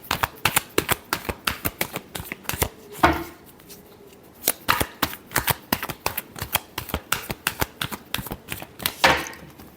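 Tarot cards shuffled by hand, close rapid flicks and riffles in two runs split by a short pause, with no voices.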